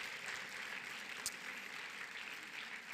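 Applause from a conference audience at the close of an event day, a soft, distant and even wash of many hands clapping, with one sharper clap standing out briefly near the middle.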